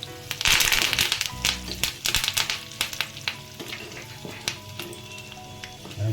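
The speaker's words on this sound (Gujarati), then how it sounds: "હવે આમાં કઢી પત્તા નાખી દઈએ" Curry leaves dropped into hot oil for a tempering, crackling loudly in a bright sizzling burst at first, then settling into scattered pops and spatters with light stirring.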